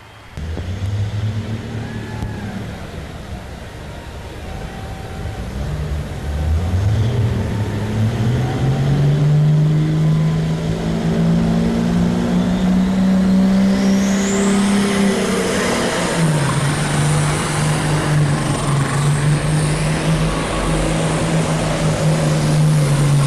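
An Allis-Chalmers D21 tractor roars through a pull at the 1993 National Farm Machinery Show, its loud engine climbing steadily in pitch and holding a strained, sustained drone, with a high whine rising over it late in the run.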